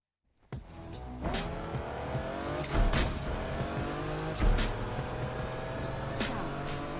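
A car in the video game Need For Speed Unbound starts up and drives off with a loud engine roar, revving surges and tire squeal, continuous and close throughout.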